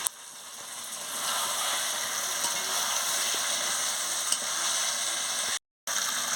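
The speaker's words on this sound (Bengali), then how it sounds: "দিয়ে মাংসটা মশলার সঙ্গে ভালো করে কষিয়ে নিচ্ছি" Chicken with spices fries in a pan, giving a steady, even sizzle that runs close and unbroken, then cuts out for a moment near the end before resuming.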